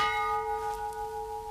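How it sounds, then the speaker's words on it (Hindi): A single bell hanging at a palace gate rings in a period drama, one clear struck tone that hums on and slowly fades, heard alone. "जो ही जंजीर हिलती, घंटी बजने लगती।"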